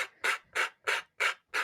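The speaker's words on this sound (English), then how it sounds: "So you just take a nail file and file it" Rhythmic scratchy rubbing, five quick strokes of a nail file against the cut edge of a paper card, close and fairly soft, with short pauses between.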